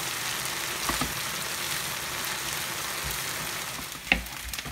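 Chicken wings fry in oil in a pan while being stirred, giving a continuous moderate sizzle broken by a few scraping stirs and a sharper clack near the end, with no one speaking.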